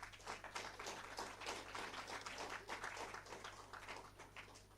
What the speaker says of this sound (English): give him the huge round of applause